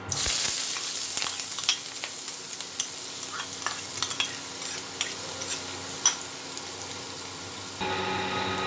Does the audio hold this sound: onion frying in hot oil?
yes